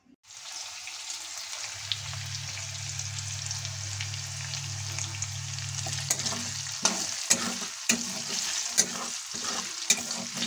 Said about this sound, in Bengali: কড়াইয়ের মধ্যে তেল দিয়ে জিরে আর আদা ফোড়ন দিয়ে দিচ্ছি আমি